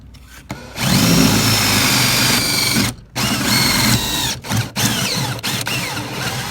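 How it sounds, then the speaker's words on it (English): An old drill bores with a Forstner bit halfway into wood from the far side of a birdhouse piece, whining loudly in three bursts split by short pauses, with a ratcheting grind over a low motor hum. "I'm going to drill halfway through with my Forstner bit so it doesn't chip"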